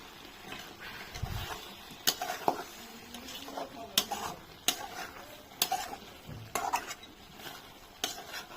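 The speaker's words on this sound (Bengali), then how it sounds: "এখানে খাসির মাংস কষাচ্ছি।" Goat meat being stir-fried down in a pan, one kilo of it, with repeated scraping and clinking of a spatula against the pan in irregular strokes over a soft sizzle, close and moderately loud.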